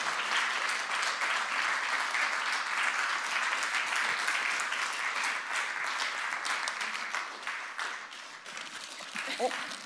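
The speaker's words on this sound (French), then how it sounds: "je crois qu'on va encore applaudir Barbara" A sustained round of audience applause continues at an even strength through most of the stretch, then tapers off and softens toward the end.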